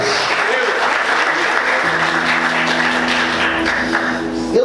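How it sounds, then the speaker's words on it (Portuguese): A church congregation applauds loudly and continuously during a sermon, dense clapping filling the hall, with a low sustained tone and faint voices underneath. "Quantos podem aplaudir Jesus com forte glória a Deus?"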